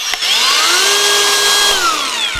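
An ALLSOME PT037-N cordless angle grinder, faulty so it starts as soon as the battery is inserted with the switch already on, whines up to speed. Its loud, steady motor tone then dips slightly near the end, with no talk.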